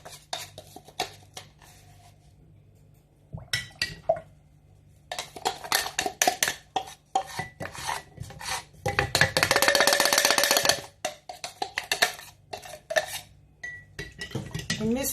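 Red onion and blended bitter cola being stirred together in a jar, with repeated close clinks and scrapes of a utensil against the container, busier and louder in the middle stretch, with no talking.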